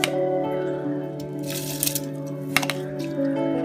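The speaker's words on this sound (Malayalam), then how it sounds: "നമുക്ക് മുഴുവനായിട്ട് റൈസ് ഇതിലോട്ട് ചേർത്ത് കൊടുക്കാം." Washed biryani rice, a 3-man brand, poured into a pot for kuska biryani gives soft wet squishes and light crackles over a steady humming background, with a few sharper clicks midway.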